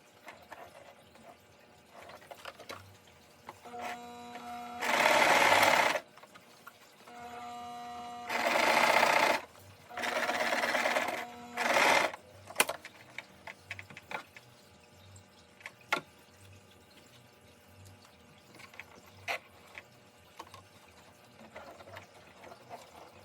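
A sewing machine stitching seams on a fabric face mask with a filter pocket, three short whirring runs of a few seconds each, with quiet handling clicks and rustles in between.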